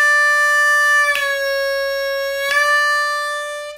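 A blues harmonica played on the 4 draw hole in a slow bending exercise: a steady reedy tone that dips in pitch twice at regular intervals, close and clear with no other sound.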